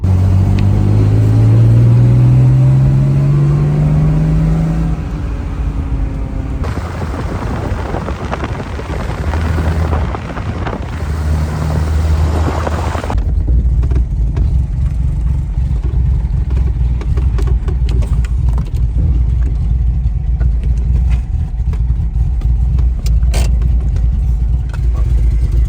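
Low drag Jaguar E-Type on the road, its engine droning steadily with a rising pitch early on, then settling into a constant low rumble of cruising with road and wind noise.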